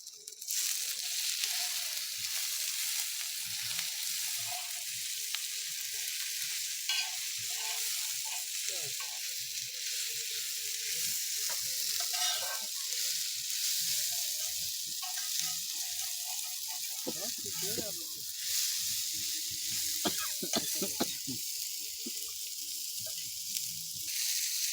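Ginger paste, garlic paste, green chili and onion frying in hot oil for Mughlai paratha, a loud continuous sizzle close up, with occasional stirring scrapes and clatter breaking through.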